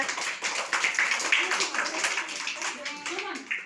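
Young children clap their hands in a steady, rhythmic patter while voices chatter underneath, the claps light and close with small children's voices mixed in.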